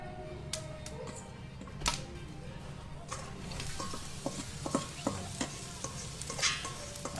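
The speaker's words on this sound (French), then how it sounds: "Je vais mettre les petits oignons." Small onions hit a hot pan and sizzle steadily while being stirred, with sharp clicks and scrapes of a utensil against the pan over the frying.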